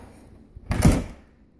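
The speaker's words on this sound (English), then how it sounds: "This is our door to the garage, two-car garage here." Interior door to a two-car garage in a rental house opening or closing, a single solid thud-and-swing sound about a second long, close and fairly loud, with no talk.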